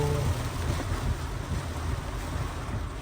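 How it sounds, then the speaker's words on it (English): Heavy rain pours on a car driving in New York City, a dense, steady broadband roar and hiss with low rumbling road noise, constant throughout with no voices. "Hope the sound isn't too rough with all this rain. It is pouring."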